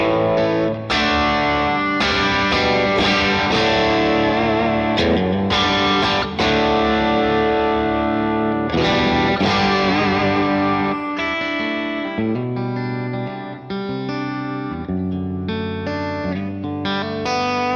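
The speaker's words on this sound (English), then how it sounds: "more or less crunch sound, more distorted sound" Continuous distorted crunch electric guitar played through a Fractal effects unit with a worship-style preset, dense chords and single notes ringing with chorus and reverb, loud and steady with no talking.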